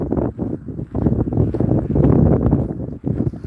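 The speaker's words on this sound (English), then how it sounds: "And I apologise for the wind noise, guys. It's a bit windy down here today." Gusty outdoor wind buffets the microphone as a loud low rumble in uneven surges with brief lulls.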